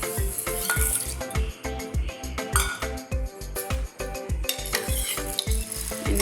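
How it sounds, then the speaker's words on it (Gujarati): Mung beans are stirred in a pot with a regular rhythm of scraping strokes and soft metallic clinks, over a background of steady cooking noise and a faint musical bed. "એને પણ હલાવી અને પછી આપણે બાફવા મૂકી દઈશું"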